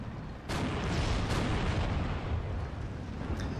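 T-34 tanks firing on a Marder in the video game Steel Division 2, a loud sudden cannon blast followed by a long rumbling roar of battle and another sharp report near the end.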